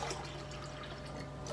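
Filtered rainwater from an off-grid rain-harvesting filter tap runs in a steady, even stream, continuous and fairly close without pauses.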